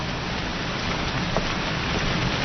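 Steady rain pours down, a dense, even hiss of falling water that fills the whole short stretch with no voices or other distinct sounds.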